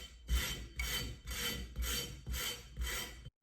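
Sandpaper rubbed back and forth over cured epoxy on the rim of a tumbler, six or seven even rasping strokes in a steady rhythm, close and clear with no talking.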